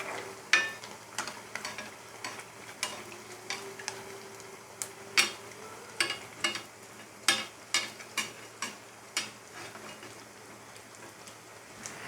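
Farali kachori frying in hot oil, a sparse run of sharp crackles and pops over a quiet bubbling bed, fairly close and without talk.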